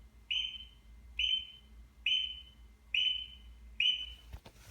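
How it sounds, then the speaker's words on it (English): A shrill whistle in The Sound of Music is blown five times in an even, repeated pattern, each blast short and piercing over a quiet low background. "will you stop blowing that fucking red whistle?"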